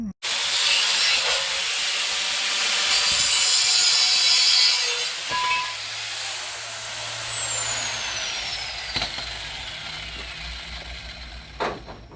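A power cutting tool chops through a seat frame for a '72 Chevy C10, giving a loud, steady, high-pitched metallic whine for several seconds that then winds down, with scattered clicks and clanks afterward.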